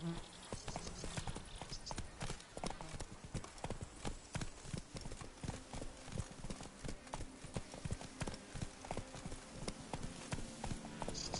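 The horse Roach gallops in The Witcher 3: Blood and Wine, its hooves beating a fast, even clip-clop rhythm that runs steadily throughout, close and clear against quiet game ambience.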